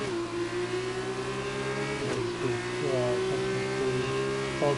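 Formula 2 race car engines in a racing video game at the Italy round, a loud sustained high-revving engine whine with pitch rising and shifting through gear changes, under faint commentary.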